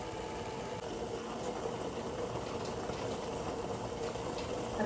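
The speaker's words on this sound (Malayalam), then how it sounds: "ശർക്കര പാനിയൊക്കെ നന്നായിട്ട് തിളച്ച് വരുന്നുണ്ട്" Jaggery syrup, made by stirring jaggery with a glass of water, boils in a pot on a stove. It gives a steady, close, dense bubbling and hissing that runs unbroken from start to finish with no voices.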